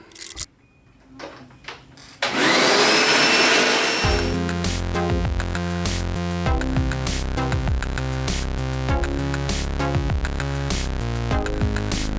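A carpet cleaning machine makes another pass over soapy carpet, starting suddenly with a loud, steady whirring roar after a quieter start. Tonal, music-like sounds then take over and run alongside it.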